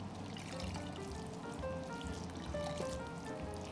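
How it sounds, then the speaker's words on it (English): Water being squeezed out of boiled radish by hand, a steady trickling pour of liquid dribbling down, close and fairly quiet, with no talking. "Squeeze out the water"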